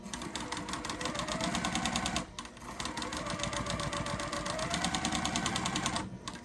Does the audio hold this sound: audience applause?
no